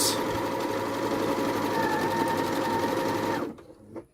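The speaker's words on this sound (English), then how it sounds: "Okay, and now I'm just going to stitch that out." A Janome computerized sewing machine stitches out a diamond pattern in a steady, loud, continuous whirr, then stops abruptly near the end, leaving a brief quiet with a small mechanical click.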